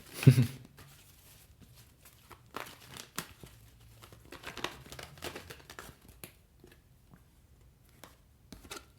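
Tarot cards being shuffled and drawn from a deck, giving a loud crinkly riffle at the start, then scattered soft slides, taps and rustles of card stock, close and alone without speech.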